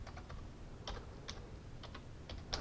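Faint, quick keystrokes tapping on a computer keyboard in short irregular bursts over a low background hum, with no voices.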